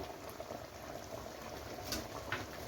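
Gram flour mixed with water being added to sagu bubbling in a pot, a continuous close simmering gurgle at low level with a couple of soft liquid splashes.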